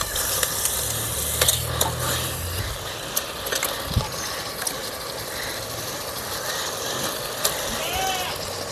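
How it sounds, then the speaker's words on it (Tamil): Chicken fries in masala for biryani, a steady close sizzle with scattered clinks and scrapes of a stirring spoon against the pot. "இப்ப நம்ம அலசி வச்சு சிக்கனை போட்டுக்கலாம்."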